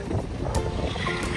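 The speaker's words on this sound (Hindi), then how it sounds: "बिल्कुल सिर्फ और सिर्फ अच्छी हवा चल रही है।" Steady wind blows outdoors, a loud, continuous rushing roar with gusty buffeting against the microphone and no voices.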